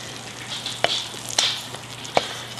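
Salmon cooks on a grill, giving a steady close sizzle broken by a few sharp crackles and pops.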